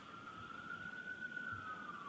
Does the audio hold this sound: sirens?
yes